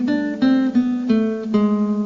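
Nylon-string classical guitar plucking the final phrase of the Malaguena intro, a handful of clear notes struck in steady succession and left ringing, close and alone.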